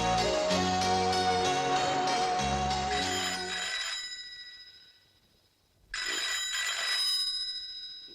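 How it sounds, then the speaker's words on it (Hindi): A phone rings with a bright, repeating electronic melody, stops for a moment, then rings again, clear and fairly close. "रात के किसका फोन है?"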